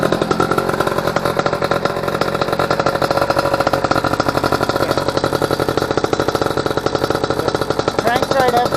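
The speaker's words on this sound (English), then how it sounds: "Cranked right up with a little choke." An Eton Viper 90R two-stroke engine runs with a little choke after a cold start, a loud, close, rapid buzzing putter holding steady throughout.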